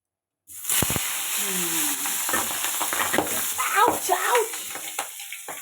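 Large tangra fish sauté in oil in a pan, a loud continuous sizzle with stirring scrapes and clatter, while someone speaks and a voice is briefly heard nearby.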